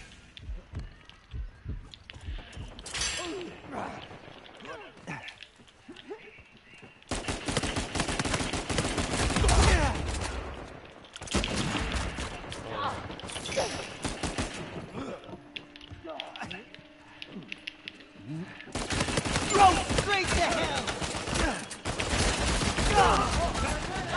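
Gunfire in a shooter video game: bursts of rapid shots in several long blocks separated by quieter stretches, loud and dense, with mechanical clicking sounds between bursts.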